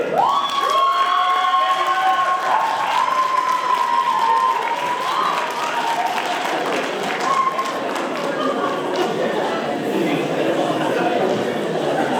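An audience at a debate final breaks into loud, sustained applause with cheering and scattered voices, the clapping close and dense before gradually thinning out toward the end.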